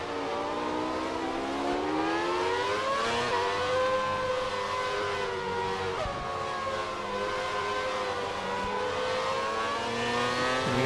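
A Formula 1 racing car engine in F1 2020 wails at high pitch, rising and falling as it climbs through the gears, loud and close throughout with no talk over it.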